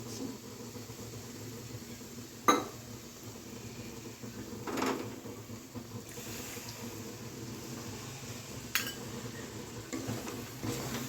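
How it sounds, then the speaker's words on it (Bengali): In a home kitchen cooking jackfruit curry, a bowl is rinsed with a little water and poured into a pot, soft trickling punctuated by a few sharp clinks of metal cookware, quiet and without talk. "তখন এবার বাটিটা একটু জল দিয়ে ধুয়ে এর মধ্যে দিয়ে দিচ্ছি।"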